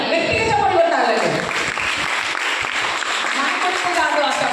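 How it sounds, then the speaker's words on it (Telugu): A church congregation clapping during a service, a steady wash of many hands heard under a prominent voice speaking or singing over it. "గట్టిగా చప్పట్లు కొట్టాలండి."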